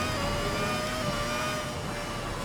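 Race Sim Studio Formula 2000 V10 engine in a sim racing game, held at a high, steady rev with a continuous loud whine and layered harmonic tones, no pauses.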